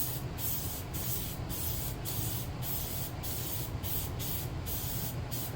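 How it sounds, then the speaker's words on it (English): Gloss black spray paint hisses from a can in a steady, continuous stream, with brief regular dips as the nozzle sweeps back and forth. "add a nice shiny coat of gloss black spray paint."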